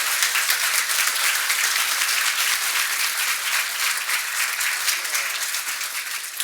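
A large audience breaks into a big round of applause, dense, bright clapping that stays loud and even throughout, tapering only slightly near the end.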